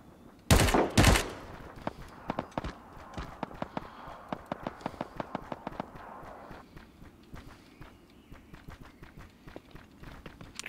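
Gunfire in a Rules of Engagement first-person shooter battle: two loud, close bursts at the start, then a long run of sharp single and rapid shots at varying distances that gradually grow fainter.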